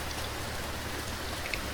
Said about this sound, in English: Let me put the rain again.